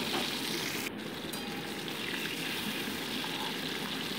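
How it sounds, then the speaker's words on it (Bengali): Pomfret fish frying in mustard oil: a steady, close sizzle of hot oil runs throughout with no talking, briefly dipping once as the pieces are turned. "মাছগুলোকে উল্টে পাল্টে আমি ভেজে নিচ্ছি।"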